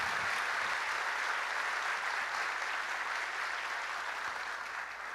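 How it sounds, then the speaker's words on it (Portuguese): A large audience at a Santa Catarina state government event applauds, a thick, continuous wash of clapping from many people that holds steady throughout with no talk over it. "Salva de palmas para todos eles."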